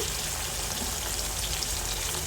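Shrimp frying in hot oil in a pan, a steady dense sizzle like light rain, constant and moderately quiet with no voices.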